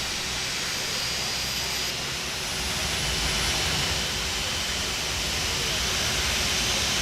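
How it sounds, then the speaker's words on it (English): An Airbus A319 engine 1 spools up in the X-Plane 11 flight simulator at the Detroit gate, a broad, steady jet roar and hiss that swells slightly partway through and holds loud without talk. "Engine 1 is rolling over."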